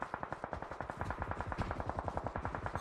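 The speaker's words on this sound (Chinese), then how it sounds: "东北方向有枪声" Rapid automatic gunfire crackles in a battle royale shooter, a long fast burst of evenly spaced shots that runs unbroken from start to finish at moderate distance, with no talking.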